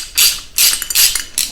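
A bolt on an Adrian Steel ladder rack for a Nissan NV200 is tightened with a hand tool, giving four close, loud bursts of hissy ratcheting or scraping in an uneven rhythm with no talk.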